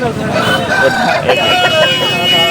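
A rooster crows close by at a busy poultry market, over a background of other birds and voices talking, the calls rising and wavering through the noise.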